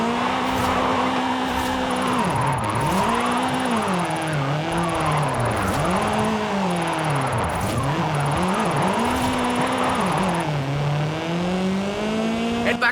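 Car drifting in Forza Horizon 5, the engine revving up and down in repeated swells as the tyres squeal and skid through slides, continuous and close.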